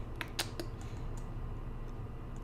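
Keys clatter on a computer keyboard as a short burst of typing during website title editing, a few distinct clicks over a quiet steady room hum, close and fairly faint.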